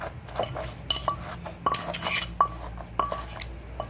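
A spoon or pestle clinks and scrapes against a bowl as papaya salad is tossed, irregular close metallic taps and knocks repeating every half second or so, with no talk.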